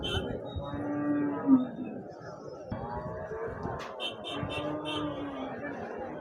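Jersey cows moo at the Husnabad cattle market in Siddipet, Telangana, several drawn-out lowing calls at moderate distance over busy market murmur and a passing engine.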